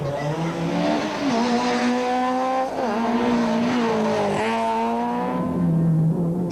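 A Volkswagen rally car tears sideways along a rally stage, its engine droning loud and steady with pitch swings as it revs, while tires squeal through the slides, close and continuous throughout.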